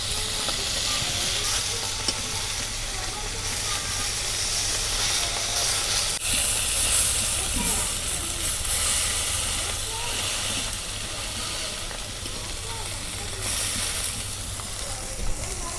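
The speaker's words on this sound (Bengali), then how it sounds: "আজকে তেলটা পুরা হিট করে মাছগুলো ভাজা নিতেছি।" Small bata fish, fresh from the river, fry in well-heated oil in a village kitchen, giving a steady, loud, close sizzle and hiss that runs unbroken throughout, with occasional stirring scrapes and faint speech-like murmurs underneath.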